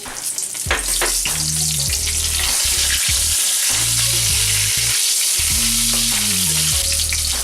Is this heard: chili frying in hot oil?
yes